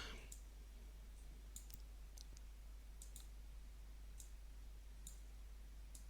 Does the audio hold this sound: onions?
no